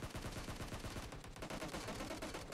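Rapid bursts of automatic gunfire from PUBG Mobile, a dense, loud rattle of shots running continuously with a brief dip in the middle, no talking.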